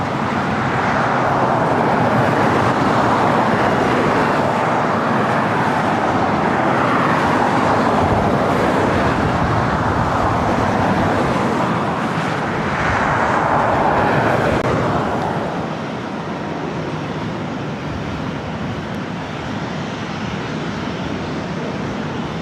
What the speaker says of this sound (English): This next takeoff is Southwest Airlines 174.